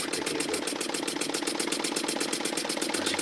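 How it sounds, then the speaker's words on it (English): A small Elmers wobble-plate steam engine runs on compressed air, giving a fast, even mechanical chuffing and clicking rhythm, close and steady, with no voices. "you can see the wobble plate there, which is wobbling in and out"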